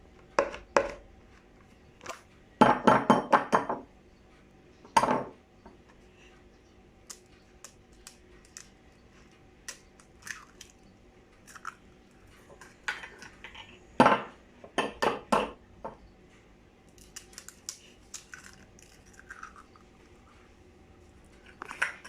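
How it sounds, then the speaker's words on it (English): An egg is cracked against a bowl and dropped in for French toast, with a few sharp knocks and clatters up close and scattered light clinks of shell and bowl between them. "Firstly, I'm going to crack the egg into a bowl"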